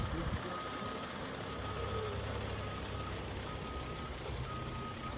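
A fire truck backs in at a fire scene, its reversing alarm sounding as faint, evenly spaced beeps over a steady, loud rumble of engine and outdoor noise.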